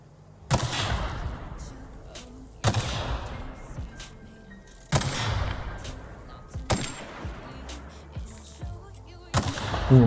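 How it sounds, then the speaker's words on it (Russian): Gunfire in the video game The Outer Worlds: five loud, sharp shots spaced roughly two seconds apart, each with a ringing decay, over a faint ambient background. "Не, ну звук хороший выстрел."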